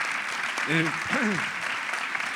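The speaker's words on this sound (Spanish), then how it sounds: "Vamos a recibir con un fuerte aplauso" Applause from a theatre audience runs steadily throughout, with a voice briefly speaking over it.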